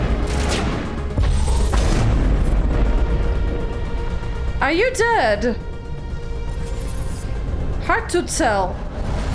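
Gunfire and heavy booming blasts from the sci-fi shooter Mass Effect, loud and close, in bursts across the scene with someone talking over it.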